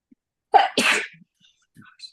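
A single sharp sneeze bursts out close by, a quick intake then explosive release, followed by faint small sounds in an otherwise quiet room.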